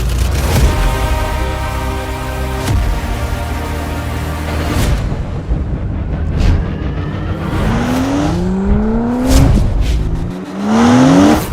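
Brabus Bodo car engine revving and roaring, loud and close, with rising pitch sweeps as it accelerates through gears alongside a booming backdrop.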